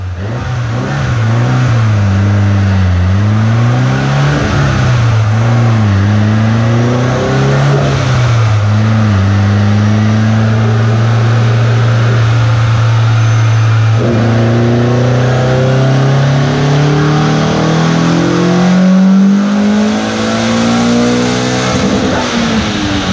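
Single-cam car engine revving hard through repeated dyno pulls at 17 PSI of boost, a loud, close engine note climbing and falling in pitch with each pull, no talk over it.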